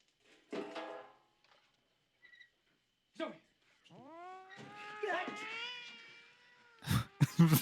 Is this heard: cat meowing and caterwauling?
yes